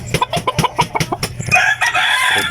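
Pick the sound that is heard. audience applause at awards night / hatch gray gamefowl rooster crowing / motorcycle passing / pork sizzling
hatch gray gamefowl rooster crowing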